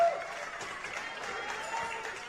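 Faint crowd noise at half-time of a football match between West Adelaide and Adelaide United at Kilburn Sportsplex, a steady distant wash of applause and murmuring that runs the whole time.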